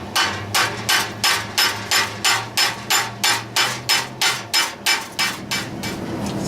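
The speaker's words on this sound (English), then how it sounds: "I'm going to match the flat face of my hammer to that angle" Blacksmith's hammer striking metal held in tongs during forge training, a steady run of about fifteen loud, close, evenly spaced ringing blows with no talking.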